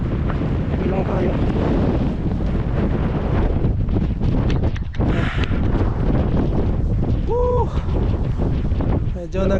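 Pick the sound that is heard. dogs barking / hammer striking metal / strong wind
strong wind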